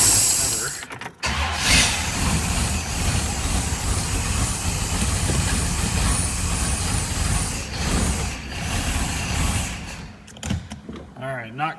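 A 1957 Chevrolet Corvette engine runs at idle on EFI, a continuous rough rumble with a couple of brief dips and a sputtering patch near the end.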